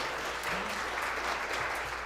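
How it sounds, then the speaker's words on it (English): Audience applause for a group of musicians at a gathering, a steady dense wash of clapping filling the whole stretch at moderate level with no voices over it. "Let's give a big round of applause to this magnificent group of musicians"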